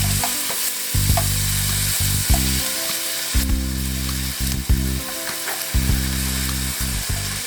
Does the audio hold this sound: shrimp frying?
yes